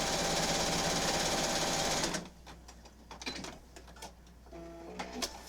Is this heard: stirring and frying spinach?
no